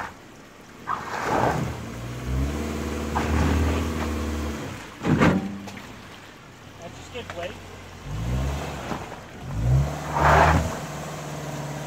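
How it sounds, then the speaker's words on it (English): A Subaru with X-MODE engaged, all four tires spinning as the engine revs and surges in several bursts; people talk in between the revs. "If you want all four tires to spin, turn X mode on."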